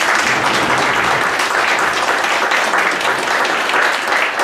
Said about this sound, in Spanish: Un aplauso a los futuros abogados.